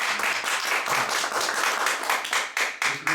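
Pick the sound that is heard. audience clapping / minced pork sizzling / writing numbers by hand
audience clapping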